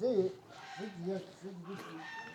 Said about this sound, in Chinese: 这里还有鸡叫声音呢